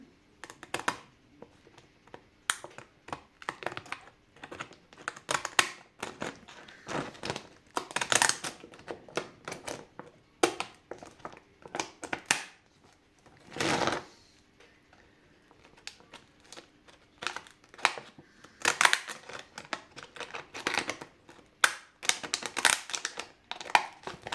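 Pinking scissors snip through flower petals in quick, irregular crisp cuts and soft rustles, close and fairly faint, with no talk.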